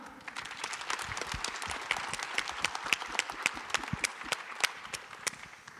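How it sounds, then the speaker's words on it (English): At a Chicago tech conference, an audience gives a panel a round of applause: distinct, crisp hand claps that blend into a steady patter, heard fairly quietly from within the room. "Let's have a round of applause for our panel."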